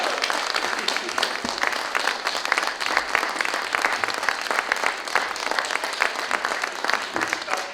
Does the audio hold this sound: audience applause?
yes